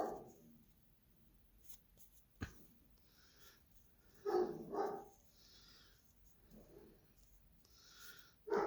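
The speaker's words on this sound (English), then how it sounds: "And my doggy's barking." Dog barking indoors during a craft session, a few faint, brief barks at a distance, broken by quiet gaps and small handling noises.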